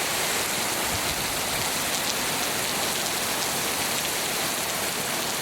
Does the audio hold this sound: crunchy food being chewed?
no